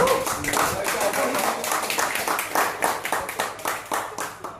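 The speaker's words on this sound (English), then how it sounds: "please give a round of applause" A small crowd claps in a lively burst of applause for a speaker at a get-together, close by, with individual hand claps audible.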